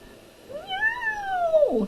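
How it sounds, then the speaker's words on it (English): A single drawn-out cat meow, rising then falling and ending in a rough, strained tail, loud and close with no other voices. ""Meow!" he yelled, but they didn't hear."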